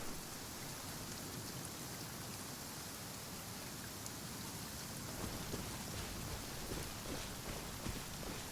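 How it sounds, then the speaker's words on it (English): Steady, even rain from Genshin Impact hisses and patters on surfaces, continuous and moderately quiet, with no voices. "It is still raining."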